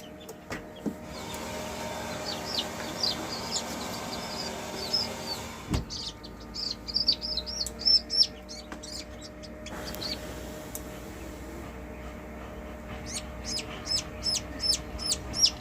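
Gavran (native village) chickens on a farm cluck and peep in short repeated bursts over a constant background hum, some calls close, others farther off.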